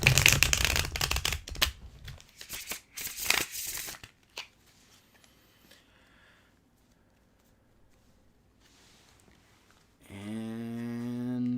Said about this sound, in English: So 6 shuffles from this one.